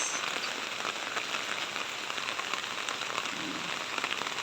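Heavy rain falls steadily outdoors ahead of a typhoon, a dense, even hiss of drops hitting surfaces close by, with no voices.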